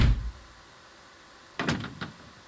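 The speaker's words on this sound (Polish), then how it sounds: "Wchodzimy przez drzwi. No, trzeba je zamknąć za sobą." A door in the SimRail train simulator is shut behind the player entering an EN-57 electric train, a brief thump at the start, then quiet, then a couple of short latch clunks.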